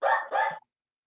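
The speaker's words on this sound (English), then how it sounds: "That's my dog barking." A dog barks twice in quick succession indoors, two short sharp yaps close to the microphone with nothing else around them.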